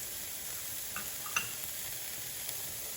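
Parsley tossed into onions and garlic already frying in a pan over low heat gives a steady soft sizzle, with a couple of faint clicks and light stirring taps over the hiss.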